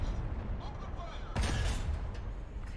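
Artillery strike in the War Thunder video game: a single sudden, muffled boom cuts through a quiet, rumbling background, sounding distant and fairly soft before fading back into low noise.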